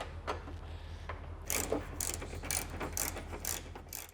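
A ratchet tightens a bolt on a tie-down fitting in a Tacoma truck bed, its pawl clicking in quick, close bursts of several turns, with brief pauses between sets of strokes.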